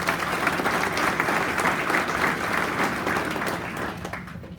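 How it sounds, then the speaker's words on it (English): An awards ceremony crowd applauds in a sustained, dense wash of clapping that holds steady and then fades out at the end. "Let's give him one more round of applause"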